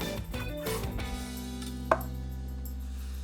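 A sharp knife slices once into a toasted smoked salmon burrito, giving a single brief crunchy thud over steady background music.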